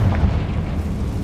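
A deep, rumbling magical blast from the Confringo spell in Hogwarts Legacy, a short and full-bodied burst with a booming low end, loud and close, with no voices.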